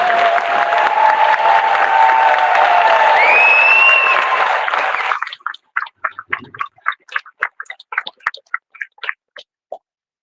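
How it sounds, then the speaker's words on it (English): A rally crowd opposing wind and green energy applauds a state representative: about five seconds of dense, loud clapping with whistles and cheers, then a thinning patter of scattered claps that trails off. "let's give a huge hand of applause for Representative Jim Shaw"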